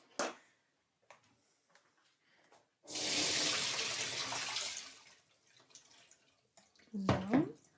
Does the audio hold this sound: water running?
yes